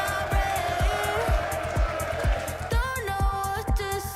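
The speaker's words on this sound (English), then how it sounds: "Well, that might well be the biggest cheer we see tonight" A packed darts crowd roars through a nine-dart shootout, a loud continuous wall of cheering carried over a steady, evenly spaced thumping beat.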